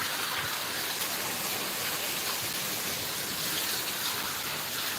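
Steady, dense rainfall with hail mixed in, a constant loud hiss of falling water that holds even throughout without any pause.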